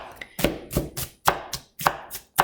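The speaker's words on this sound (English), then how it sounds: "Okay, I'm going to chop up my onion, and I'm going to make it very fine" A knife chops an onion finely on a cutting board for meatballs, about ten crisp, evenly spaced thuds close by, with no talking.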